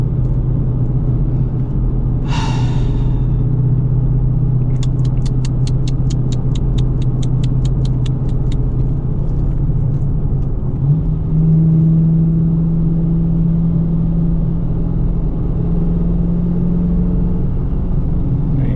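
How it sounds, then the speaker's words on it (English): Dodge Challenger R/T with a six-speed manual gearbox, driving along with a steady low engine rumble that drops and rises as it shifts through gears, plus brief clicks and rattles, heard from inside the car with no talk. "Nothing like rolling through them gears."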